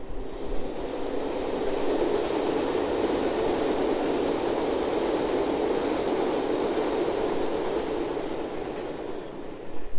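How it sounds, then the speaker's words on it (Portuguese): A train rolls past near a beach, a steady loud broadband rumble and rail roar holding for about ten seconds with no one talking. "Peraí que tá passando o trem."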